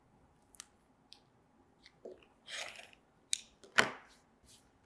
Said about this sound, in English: We're going to trim just a little bit off, not taking much off, just pulling a smidgen off.